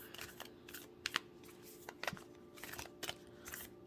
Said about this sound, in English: Let's see what they're like to shuffle.